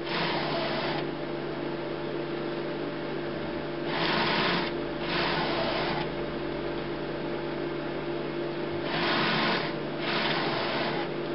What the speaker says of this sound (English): The noise we can hear, that's the priming pump just pumping the ink through.